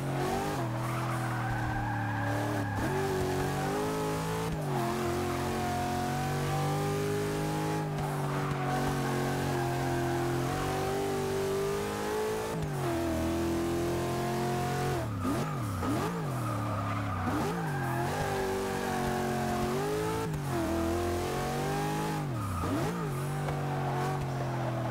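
A 1991 Jeep Grand Wagoneer in the racing game Forza 6, its engine revving and shifting through rising and falling pitches, with tire squeal as it slides through corners, loud and continuous.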